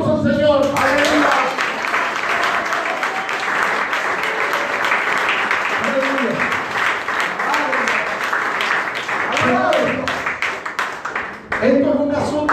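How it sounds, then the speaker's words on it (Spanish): A church congregation breaks into sustained, dense applause for the Lord during a sermon, a steady wash of many hands clapping for over ten seconds with voices shouting over it. "Dame un aplauso al Señor"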